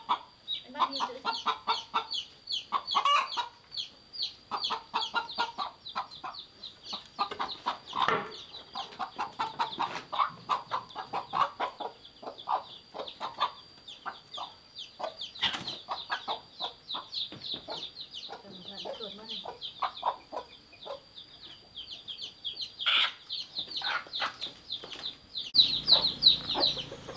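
Chickens for sale at a Vietnamese market cluck continuously for nearly half a minute, with short choppy calls in irregular bursts at close range. Faint talk runs under them in places.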